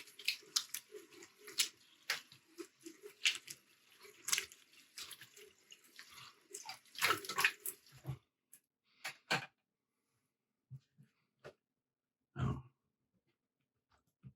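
Water splashes as a face is rinsed after shaving with a safety razor and alum, a string of short wet splashes and drips up close, then a few separate splashes with quiet gaps between them.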